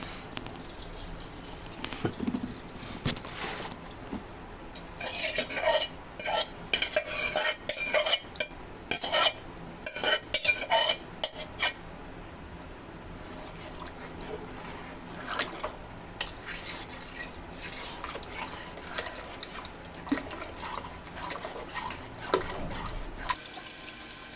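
Milk mixture is poured and stirred into a pot of payesh (milk rice pudding), with liquid splashing, clinks of a metal spoon against the pot, and scraping stirs that come in bursts and fade, with no voices.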